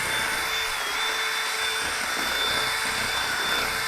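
Power drill with a mixing attachment churning a liquid batter-like mixture, a steady high whirring whine with a wet, rough hiss, continuous and fairly close throughout.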